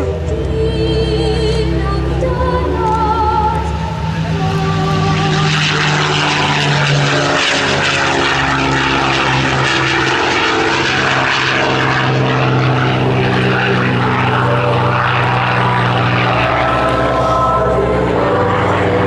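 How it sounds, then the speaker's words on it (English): P-51 Mustang rolling down the runway at the 2012 Joint Base Lewis-McChord air show, its propeller engine a loud, steady droning roar that builds as it accelerates, heard continuously with faint announcer talk underneath. "as Lee is rolling down the runway, he will roll the aircraft 360 degrees"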